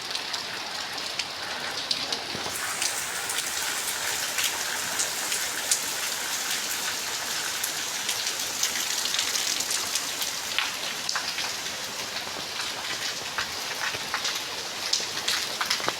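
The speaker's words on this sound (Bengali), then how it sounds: "এখন প্রতিদিনই আমাদের এখানে বৃষ্টি হচ্ছে" Steady rain falls outside on a village street, a dense, even patter of drops hitting surfaces, moderately loud and continuous for the whole stretch with scattered sharper drips.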